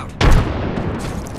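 A frag grenade detonating in Apex Legends, one sharp booming blast that decays into a rumbling tail, close and loud.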